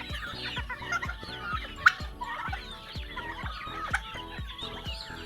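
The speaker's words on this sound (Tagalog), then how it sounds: "Yung mga manok dun sa kabila, oh." Several chickens cluck and call in an irregular, overlapping chorus, with occasional louder sharp squawks standing out from the flock.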